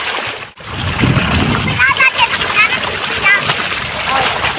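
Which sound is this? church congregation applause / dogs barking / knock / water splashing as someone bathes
water splashing as someone bathes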